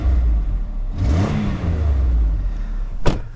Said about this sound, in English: How's that engine sound?